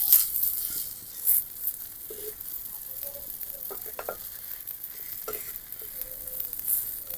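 A palm-fruit patishapta pancake frying in a little oil in a pan gives a steady, close crackling sizzle with a few brief scraping touches as it is turned, no talking.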